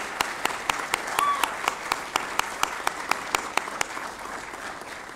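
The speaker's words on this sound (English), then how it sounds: "Let's give a round of applause to congratulate the Noy Group on all of their success." An audience applauds at a Nasdaq opening bell ceremony, steady clapping of a modest crowd with a few sharp individual claps standing out, continuing evenly throughout.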